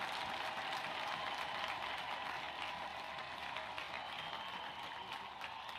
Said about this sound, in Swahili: Nataka nione kila mtu saa hii hapa apikie rais makofi ya kumshukuru kwa kazi ambayo ametutendea Bungoma.